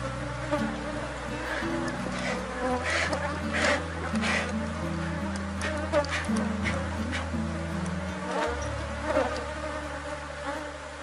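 Honeybees buzzing steadily around a closed hive during a colony split, a dense continuous drone near the microphone with low hum layers and occasional louder passes of individual bees.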